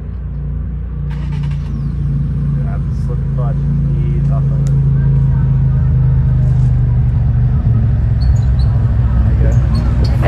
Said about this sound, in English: Ease off the clutch into the throttle as you get to the rock wall and just climb up it.